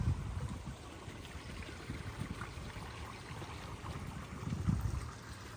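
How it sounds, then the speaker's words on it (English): Water flows and trickles steadily nearby at low volume, a soft continuous babble with gentle splashing and no voices. "There's just something about the sound of water that has healing power."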